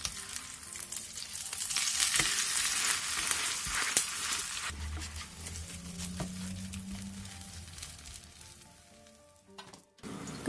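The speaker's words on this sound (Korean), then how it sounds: "팬에 기름을 두른 뒤 계란물을 묻힌 배추를 2장 살짝 겹쳐서 올려주고" Oil sizzles steadily in a hot pan as egg-dipped cabbage pancakes fry over medium-low heat, a bright crackling hiss that softens toward the end, with no talking.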